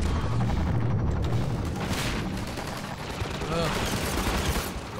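Gunfire in Half-Life 2, with dense rapid shots and bursts of automatic fire in a busy combat scene, mixed with other game noise and a voice speaking over it.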